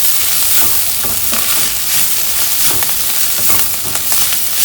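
Spicy bitter gourd and onion are stirred in a hot pan, a continuous loud sizzle and fry with repeated scraping strokes of the spoon throughout.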